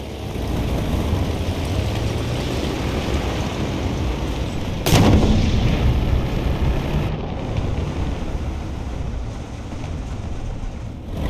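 A Russian tank cannon fires once in War Thunder, a single loud, sharp blast cutting through a steady rumbling engine and ambient battle noise, followed by a short echoing tail.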